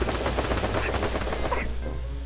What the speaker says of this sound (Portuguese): tem nega atirando em mim